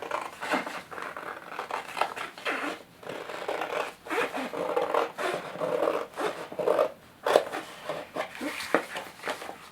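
Scissors snip through a paper pattern template for a lined drawstring bag, giving a rhythmic series of close, crisp cuts and rustles with brief gaps between strokes.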